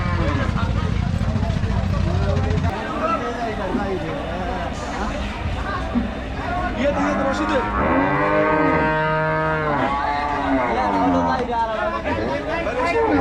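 Cattle at a crowded Qurbani cattle market lowing, with several long, loud moos standing out above a steady hubbub of people talking nearby.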